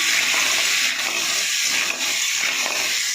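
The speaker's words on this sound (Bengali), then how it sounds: "কাঁকড়ার দাঁড়াগুলো ভাজছি এখন।" Crab claws fry in hot oil in a pan, producing a loud, steady, close-up hiss and sizzle that barely changes throughout.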